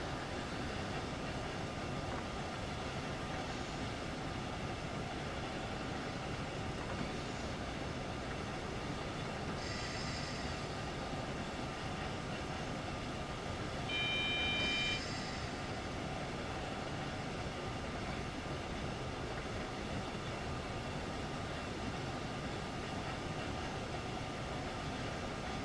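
Lightweight passenger train coasting down a gradient on the Main Spessart line in Train Sim World, a quiet steady rolling rumble of wheels and cab noise with a few brief high-pitched tones, no talking.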